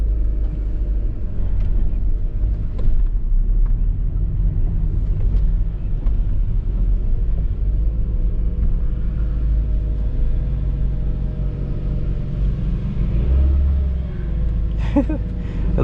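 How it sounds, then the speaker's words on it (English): A stock Mazda MX-5 drives its first drift lap, its engine a loud continuous rumble with steady droning tones that shift late in the run, heard from inside the car. "Well, first lap with the MX-5."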